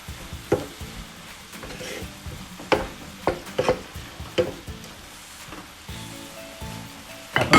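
Seasoned vegetables for a vegetarian lasagna being mixed in a pan: repeated clacking and scraping strokes of a utensil at an uneven rhythm over a soft, steady sizzle, close up with no talking.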